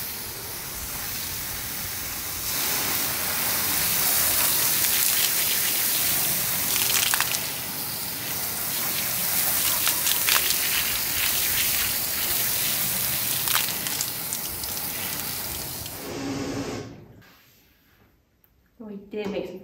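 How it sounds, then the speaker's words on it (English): Hose water sprays steadily against a window of an off-grid house being built in the woods to test for leaks, a loud, continuous hissing gush lasting most of the clip before cutting off abruptly near the end. "I'm gonna soak it down again and see if there's any water coming in."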